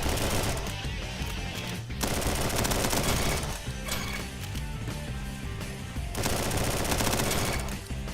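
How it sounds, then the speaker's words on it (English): Rapid gunfire in the Roblox game Bad Business, loud dense bursts of automatic shots in steady streams broken by brief pauses, layered with game sounds and no talking. "One person just tried to stand there and shoot at me with a FAMAS."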